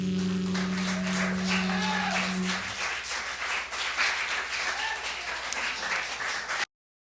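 An audience applauds after a live song, starting under a fading sustained musical chord, then clapping alone continues steadily at moderate loudness until an abrupt stop.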